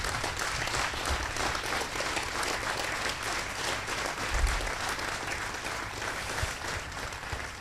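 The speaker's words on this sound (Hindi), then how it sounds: "खड़े होकर पुरजोर तालियों से अपनी कृतज्ञता ज्ञापित करें" A concert audience rises to its feet and claps in a thick, continuous standing ovation, steady and fairly loud throughout, with a few heavier thumps near the middle and no speech over it.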